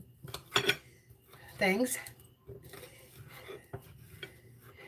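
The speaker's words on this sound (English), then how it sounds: "I'm going to go ahead and start his plate and cut the meat up" Knife and fork scraping and clinking against a plate while cutting up chicken fried steak, several short close metallic taps and scrapes at a home supper table, with a brief word spoken.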